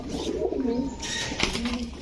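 Pigeons at a fancy-breed sale, including large Hammer males and Chila birds, coo in low throaty rolls throughout, fairly close, with a brief sharper call midway.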